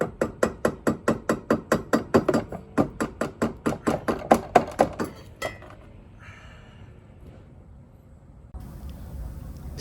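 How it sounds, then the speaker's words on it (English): A rapid series of sharp metallic hammer taps, about twenty evenly spaced strikes, tapping out an A/C compressor part on a MINI Cooper R50, then quiet shuffling and a low rumble toward the end. "And tap it out with a hammer."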